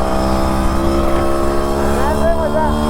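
A Yamaha RX100 motorcycle engine runs loud and close, a continuous two-stroke drone with its pitch rising and wavering as the throttle opens near the end.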